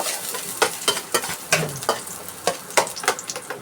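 Garlic frying in a hot pan for a chicken, cauliflower and carrot stir fry, a close crackling sizzle broken by quick, regular scraping strokes of a utensil stirring the pan.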